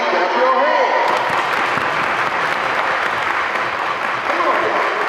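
A crowd at a school family fun night claps hands together in a dense, continuous burst of applause, loud and close, with cheering voices mixed in throughout.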